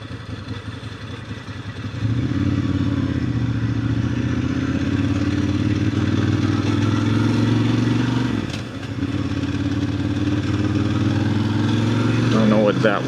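Ducati Monster 1100 with an air-cooled two-valve engine rumbles steadily at night, the engine note rising as it rides, dipping briefly and then climbing again, with someone talking over it.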